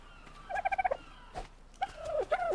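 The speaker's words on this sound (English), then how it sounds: "I choose you, Dodo Bird." A dodo in the video game Ark: Survival Evolved gives a rapid, gobbling call of quick repeated notes, followed by a thump and another warbling cackle, moderately loud without speech.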